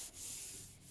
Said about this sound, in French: Donc maintenant, je vais poncer le plus gros.